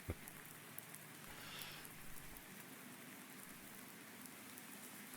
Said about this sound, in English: We shall literally wait for the rain to stop.